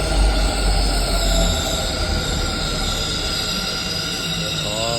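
Metro train running with a loud, continuous rumble of wheels on rails, an overlying tonal hum and whine, and a rising squeal near the end.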